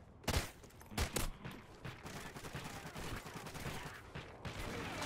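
Bursts of gunfire in Call of Duty Ghosts during a capture-the-flag match: a few sharp, loud shots early on, then steady distant fire that keeps crackling in the background.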